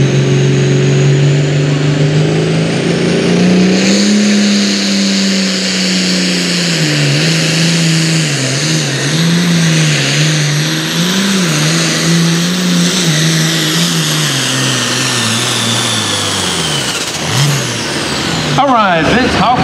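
A Super Farm Truck engine roars under load during a truck pull in Hopkinsville, Kentucky, its loud, sustained pitch climbing and wavering as the run goes on, with an announcer talking over it.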